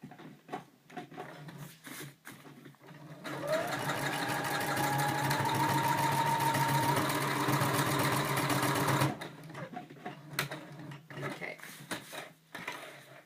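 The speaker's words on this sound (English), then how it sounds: "And I'm going to do a straight stitch. I'm going to go back and forth 2 or 3 times" A sewing machine runs a straight stitch back and forth through cased elastic, a steady mechanical whir lasting several seconds with a short rising whine partway through, framed by quieter handling clicks before and after.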